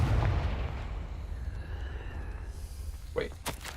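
Confringo spell cast in Hogwarts Legacy, a deep rumbling blast that fades into a low roar, followed by a couple of sharp cracking bursts near the end.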